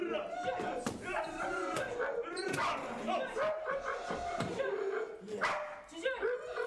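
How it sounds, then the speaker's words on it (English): A pit bull barks in short, sharp bursts through a busy indoor scene, with people talking loudly over and between the barks. "what kind of dog is this? He's a pit bull."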